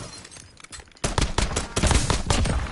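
Rapid automatic gunfire in a military shooter video game, a loud, close, dense burst of shots starting after a quieter second and continuing to the end, with no voices.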